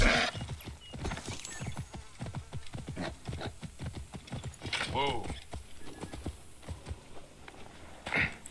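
Horse hooves clip-clop steadily in the game Assassin's Creed Origins, with a neighing whinny midway and voices talking over the footfalls.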